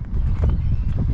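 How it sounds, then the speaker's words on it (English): Horses close by in an open countryside setting, with heavy steady thudding movement and snorting filling the moment, no talk. "just taking a little detour to say hello to the horses"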